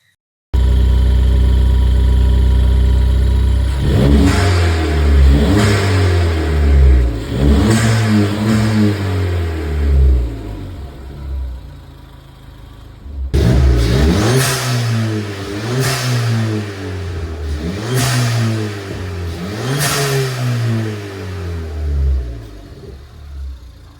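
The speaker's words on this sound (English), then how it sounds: "So now we'll get some blow-off noises before and after." A Ford Fiesta ST fitted with a TurboSmart dual port blow-off valve idles loudly, then revs repeatedly in two bursts, each rise in engine pitch followed by a fall as the throttle closes, recorded close with no voices.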